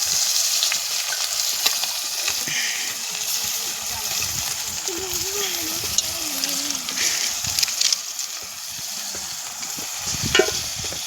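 Chopped onion frying in a hot oil tempering in a pan for a rustic village-style chicken curry cooked outdoors, with a steady loud sizzle and occasional stirring scrapes.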